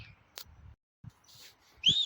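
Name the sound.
neighbours whistling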